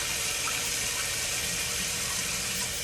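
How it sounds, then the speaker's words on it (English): Water wrung out of freshly washed short hair, a steady close splashing gush that fills the short moment without pause. "Go ahead and wring this out."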